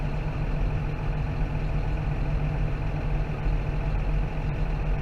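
A John Deere tractor engine runs steadily while driving through town, a close, constant low rumble that holds level throughout, with no talking over it.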